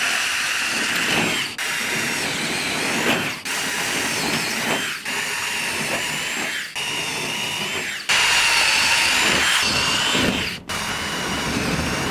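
A power drill whines steadily at close range while drilling out an Airstream Argosy trailer, stopping and restarting every couple of seconds in a series of short bursts.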